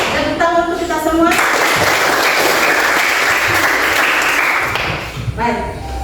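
Students in a classroom break into a dense, loud burst of applause lasting several seconds, with children's voices just before and after.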